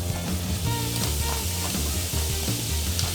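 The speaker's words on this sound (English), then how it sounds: "Now we're gonna throw some butter in here." Butter melts in a hot pan with cauliflower florets, giving a loud, steady sizzle and crackle that runs without a break, close up and with no talking.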